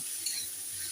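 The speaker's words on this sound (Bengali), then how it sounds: "এবার দিয়ে আমি আবার একটু নাড়াচাড়া করি।" Egg and pointed gourd curry stirred in a pan, a steady close sizzling hiss with a soft scrape of the spoon, brief and unbroken.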